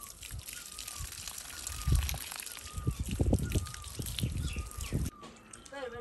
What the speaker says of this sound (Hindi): थोड़ा पानी से धुलकर खाएंगे इनको।